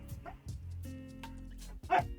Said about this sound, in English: And the dog is just barking.